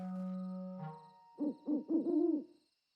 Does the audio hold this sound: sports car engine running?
no